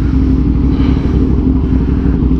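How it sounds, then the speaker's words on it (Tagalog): A big motorcycle, a BMW S1000R, rumbles loudly and steadily close by as it passes, a dense continuous engine drone with no talk. "May big bike sa gilid ah."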